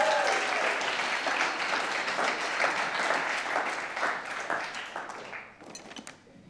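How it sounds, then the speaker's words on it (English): A church congregation claps in a round of applause during a Sunday service, a dense steady wash of hands that thins and fades out near the end. "Let's give Connor a round of applause."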